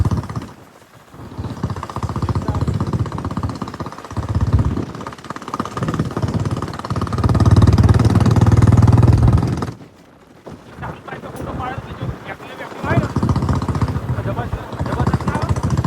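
A motorcycle engine drones steadily while riding, rising louder for a stretch, with a voice talking over the running engine.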